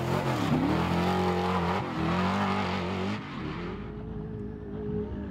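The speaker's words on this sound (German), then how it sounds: "Robbie macht deshalb das, was er am besten kann und wofür ihn sein Publikum liebt. Gnadenlos Vollgas geben" An off-road desert race car at the Score Laughlin Desert Challenge roars at full throttle, its loud droning pitch sliding and surging, then settling into a steady, slightly lower rumble.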